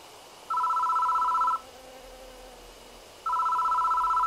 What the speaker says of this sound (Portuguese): Pô, o telefone está tocando.